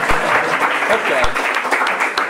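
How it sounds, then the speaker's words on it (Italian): Scattered audience applause during a talk at the PLAY 2019 games festival, mixed with a few louder individual claps close by. A voice speaks briefly over it. "Un applauso per la cavia sacrificata."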